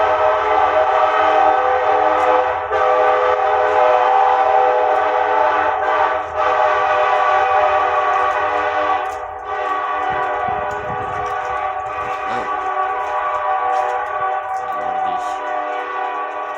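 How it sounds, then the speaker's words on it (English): Steady, loud train noise rumbles near an abandoned former hotel turned convalescent center, with horn-like tonal bands sustained throughout and a slight drop in level partway through. "I'm sure y'all can hear the train"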